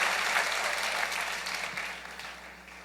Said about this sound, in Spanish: démosle un aplauso al Rey bendito